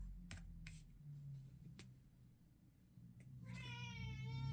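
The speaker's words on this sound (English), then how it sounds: "Ooh, kitty confirmation." A cat meows once near the end, a clear drawn-out close call, after a few sharp taps and clicks over a low room hum.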